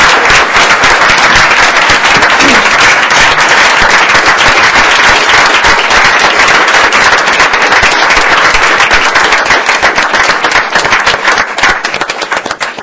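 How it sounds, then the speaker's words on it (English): A sustained round of applause fills a board meeting room, dense, loud clapping from many hands crackling steadily for the whole stretch and only starting to thin near the end, with no talking over it. "let's give him a round of applause"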